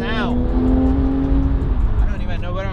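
A Porsche GT3 sports car engine drones steadily at close range, with a brief rising rev at the start and a faint voice beneath the engine.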